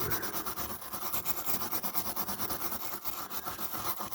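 A diecast model car's bonnet sanded smooth before painting, a close, continuous scratchy rubbing with quick back-and-forth strokes.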